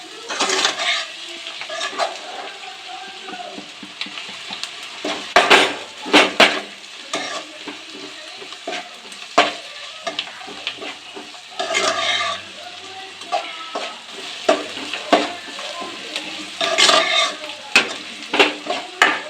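Pulav with freshly added chopped green chillies is stirred in a pan, a spoon scraping and clinking against the metal in repeated uneven strokes over a soft, steady sizzle, close up and without speech.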